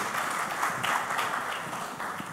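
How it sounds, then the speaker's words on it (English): Conference audience applauding a speaker at a One Health and biosecurity event, a steady wash of many hands clapping for a couple of seconds. "Can you give him a round of applause, please?"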